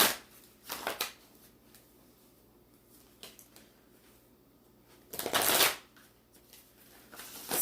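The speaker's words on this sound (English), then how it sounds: "I went straight into shuffling" Tarot cards being shuffled close up, two brisk riffling bursts separated by quieter handling and soft clicks.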